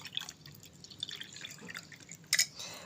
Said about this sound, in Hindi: इसमें मैं पानी डालूँगी।